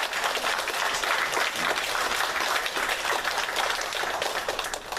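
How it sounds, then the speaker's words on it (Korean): A church congregation at a Sunday worship service claps in encouragement for the choir and singers, a broad, sustained round of applause from many people that stays level and only eases slightly at the very end. "우리 격려의 박수"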